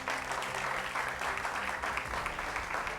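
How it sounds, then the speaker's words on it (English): An audience at a state quiz competition semi-final in Ogun State gives steady, continuous applause, a dense wash of clapping that stays even and full for the whole stretch with no voices standing out. "A round of applause for you."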